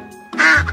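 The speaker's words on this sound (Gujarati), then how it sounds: "આ પક્ષીને બતક કહેવાય અને બતકને અંગ્રેજીમાં ડક કહેવાય." A duck gives a short, close, loud quack, a single nasal burst standing alone after a brief quiet lead-in.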